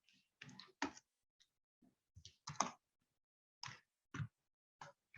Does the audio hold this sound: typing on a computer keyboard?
yes